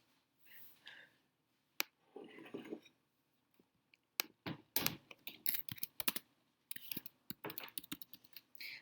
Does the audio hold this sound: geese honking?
no